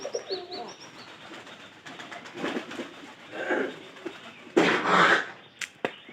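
Pigeons coo repeatedly inside a netted enclosure, soft throaty calls rising and falling close by, with a few brief chirps and rustles and a louder flurry of sound near the end.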